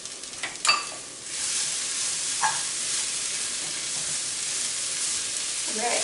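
Kale hitting a hot pan for a spring quiche: a few clanks and stirring knocks, then a steady, close sizzle and hiss that carries on evenly.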